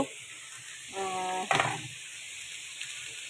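Food being stirred in a frying pan over a faint background sizzle, with a short buzzy scraping rattle followed by a sharp clatter of the utensil against the pan, then the quiet sizzling continues.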